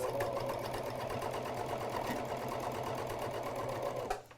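An Elna Covermax coverstitch sewing machine runs at a fast, steady, close mechanical whir with a rapid stitching pulse, then stops abruptly near the end, with no talk over it.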